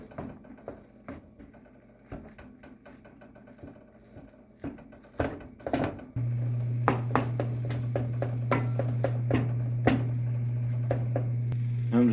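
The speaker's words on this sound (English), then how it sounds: "I'm just going to chop this up with the spatula" Ground beef, 80-20, is broken up with a spatula while it browns in a pan for Hamburger Helper lasagna. Irregular scraping and tapping clatters at first, then a steady sizzle settles in with scattered scrapes on top.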